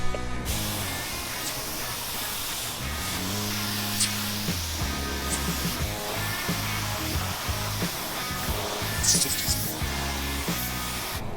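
A spray gun lays clear coat on an offroad bread van, a steady airy hiss running throughout with a low mechanical hum beneath and a few brief bursts.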